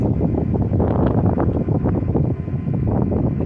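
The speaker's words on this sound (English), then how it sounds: "Can you hear the wind?" Steady wind roars and buffets the microphone beside a pond, a loud continuous rumble without pause throughout.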